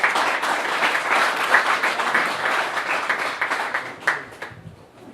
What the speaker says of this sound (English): he deserves a big round of applause,